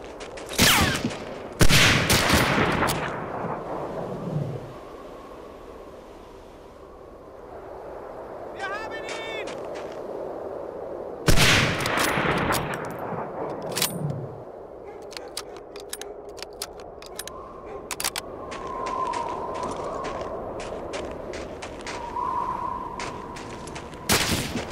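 Sniper and other gunfire in Medal of Honor: Allied Assault, a few loud sharp cracks spaced several seconds apart within steady game ambience and scattered smaller clicks and shots.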